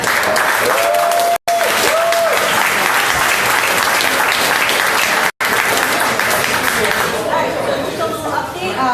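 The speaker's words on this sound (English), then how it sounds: "So please, big round of applause for Mariana." Loud, continuous applause from a large crowd at a community activists' meeting, with some chatter mixed in, briefly cut out twice, easing slightly toward the end.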